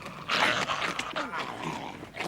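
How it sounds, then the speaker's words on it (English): A dog whimpering and yipping in an excited, uneven burst of short cries at close range, with voices mixed in around it. "Sorry about the dog, sir."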